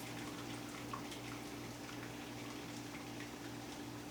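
Dyed water poured out of a pot on a stove while making a boiled book, a steady continuous watery rush with a low hum underneath, close and even throughout.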